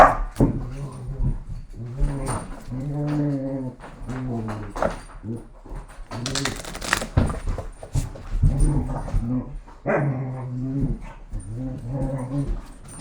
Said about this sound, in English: I just got this puppy a couple days ago. They're underneath the dining room table here rustling.